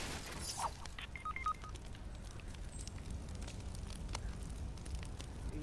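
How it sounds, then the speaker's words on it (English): A campfire crackles faintly in a survival video game: soft, scattered pops and snaps over a quiet, steady background hiss. "I lighted a campfire."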